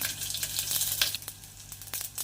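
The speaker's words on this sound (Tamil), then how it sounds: "கடுகு வெடிக்க ஆரம்பிச்சிருச்சு" Mustard seeds crackle and pop while frying in a hot pan of oil, giving a dense, close sizzle full of quick irregular snaps with no voice over it.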